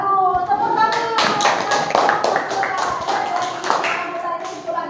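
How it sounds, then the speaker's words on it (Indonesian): A classroom group claps hands in a brief, uneven round of applause, with voices chattering underneath. "Tepuk tangan."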